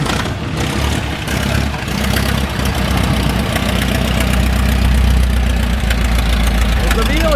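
A vintage Velie car engine idles steadily and loudly nearby, a continuous low rumble with a faint knocking texture that holds without a break throughout.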